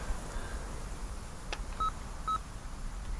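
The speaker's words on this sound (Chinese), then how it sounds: "给营长打电话" A telephone being dialed at a military post, with two short, clear keypad tones a moment apart against a quiet background hiss.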